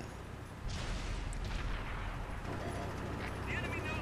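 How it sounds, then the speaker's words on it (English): Artillery shell hitting a tank in World of Tanks on console: a sudden heavy boom hits after a quiet moment, followed by a sustained rumbling roar and metallic ringing, fairly loud. "artillery takes another poke at me"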